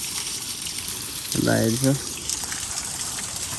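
Cold mountain spring water runs in a steady outdoor hiss throughout, with a voice speaking briefly over it.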